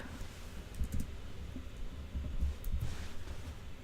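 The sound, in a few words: typing on a computer keyboard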